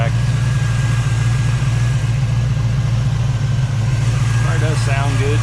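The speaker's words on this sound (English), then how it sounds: "Car does sound good." A 1968 Chevrolet Camaro engine idles steadily and close by, a loud low rumble held evenly throughout with no revving.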